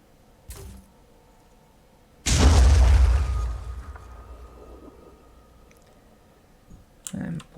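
A grenade detonates in the tactical video game Phoenix Point: a few clicks, then a single heavy boom that rumbles and fades over several seconds, followed by more faint clicks.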